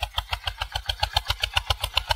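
A small 25 hp Eicher 241 tractor engine pulls a cultivator through a field, thumping in a fast, steady diesel rhythm that sounds loud and close, with no talk over it.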